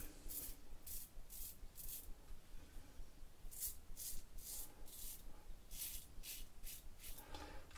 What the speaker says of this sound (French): Allez, première passe, sens du poil, c'est parti.